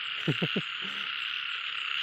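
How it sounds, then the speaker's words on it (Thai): Small frogs croaking outdoors at night after rain, a quick burst of three loud croaks followed by a softer call, over a constant high insect-like chorus. "บรรยากาศตอนนี้คือ เขียด เขียดกำลังร้องอยู่นะครับ"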